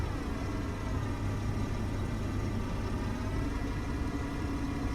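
Hydrogen engines in Space Engineers hum at a steady, dense idle, a constant loud droning tone with no pauses or voices.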